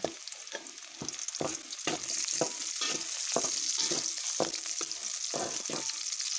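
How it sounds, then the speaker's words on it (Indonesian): Ginger and garlic sautéing in a pan, a soft continuous sizzle with repeated scraping stir strokes at a steady pace, close but fairly quiet, with no talking. "Kalau sudah wangi, kita masukkan jahe sama bawang putihnya."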